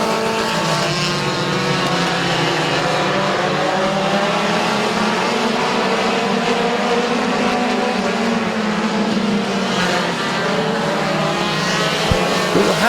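Race cars circle Midvale Speedway in a loud, continuous roar of engines, the pitch rising and falling as the pack passes, with no voices over it.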